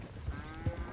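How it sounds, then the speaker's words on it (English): Cattle lowing during a cattle-rustling drive in the Red Dead Redemption 2 video game, a few short, deep moos at moderate distance over a quiet background. "Where's that cow going?"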